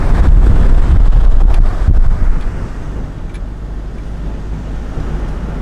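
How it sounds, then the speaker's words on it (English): Strong wind buffeting the microphone at a choppy seafront, a loud, constant roar that eases slightly partway through, with no talking. "it's going to be 50 mile an hour wind today"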